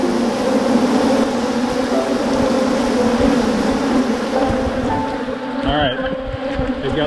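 Honey bees swarm and buzz around an open hive during an inspection, a dense steady drone close to the microphone that continues throughout with no speech.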